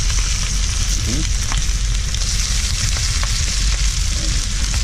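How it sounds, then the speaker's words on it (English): Pad thai noodles and protein stir-fry in hot oil in a pan, giving a loud, continuous sizzle with occasional scraping and stirring clicks close up, and no talking. "And mix it up really good so the noodle gets the oil coated all the way around."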